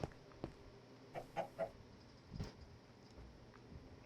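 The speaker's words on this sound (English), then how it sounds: "Yeah, this chicken farm's doing all right." Chickens clucking on a Minecraft chicken farm: a few short, soft clucks bunched together in the middle of a quiet game background, with faint scattered ambient sounds.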